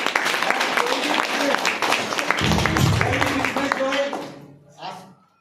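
A crowd applauds, a dense patter of clapping that swells and then fades out, with voices mixed in.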